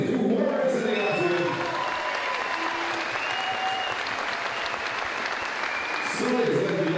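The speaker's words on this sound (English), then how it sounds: "can we have a round of applause, please" Audience applause filling the arena at an MMA fight decision, steady and sustained for several seconds, with a voice speaking briefly at the start and end.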